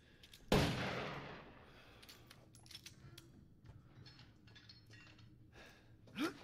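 A single sharp, loud gunshot rings out in Resident Evil Village, followed by a trailing echo, faint clicks and small movements, then a brief swell near the end.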